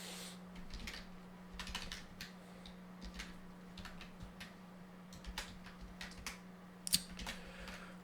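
Steady typing on a computer keyboard, quick irregular clicks and taps running throughout at close range over a constant low electrical hum, with no talking.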